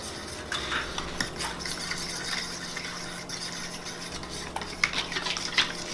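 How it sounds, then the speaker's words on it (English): Eggs are whisked in a bowl for French toast, a soft continuous swishing with faint clinks of utensil against the bowl, close by and steady, with no voices over it. "make sure you break the yolk and then just mix them in there nice and good"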